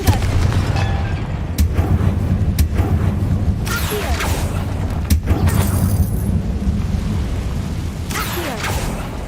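A Confringo blasting spell going off in the video game Hogwarts Legacy, a few sharp blasts and booms over a steady low ambient rumble, fairly loud and with no talking.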